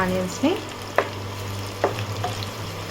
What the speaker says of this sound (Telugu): ఇప్పుడు ఆనియన్స్ మంచిగా ఫ్రై అవ్వనివ్వాలి